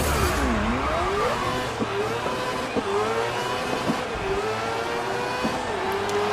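Several F1000 open-wheel race car engines scream at a race start in the Grid racing game, with rising and falling whines as the cars shift gears, steady and fairly loud throughout.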